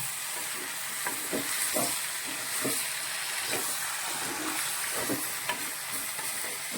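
Onions and mushrooms sautéing for a mushroom masala, a steady broadband sizzle with soft stirring scrapes and clicks recurring every second or so, close and moderately loud without any talking.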